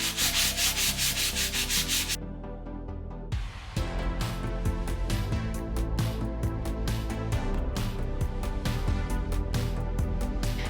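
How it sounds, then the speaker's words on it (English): Hand sanding a painted bar stool with 220 grit sandpaper, close scratchy rubbing strokes, one long continuous pass then a brief pause followed by quicker repeated back-and-forth strokes. "now I'm going to take 220 grit sandpaper and sand it down just to get rid of any of the texture"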